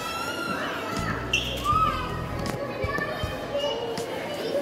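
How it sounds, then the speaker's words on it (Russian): Children shout, squeal and chatter in a zoological museum hall in St. Petersburg, a busy echoing din with a few sharp thumps, and an adult voice is heard under the noise. "Дети тут шумят, орут."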